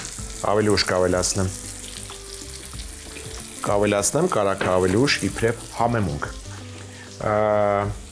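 A few drops of olive oil fry in a pan with a soft, continuous sizzle while a person talks over it during preparation of a beef and eggplant salad.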